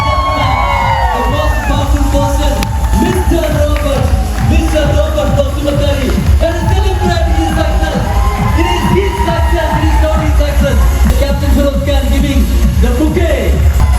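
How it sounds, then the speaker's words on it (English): A standing crowd at a gala dinner in Pattaya claps, cheers and whoops loudly and continuously, with shouted voices and babble mixed through the noise. "I would ask everyone to please stand on your feet and just let's give a round of applause"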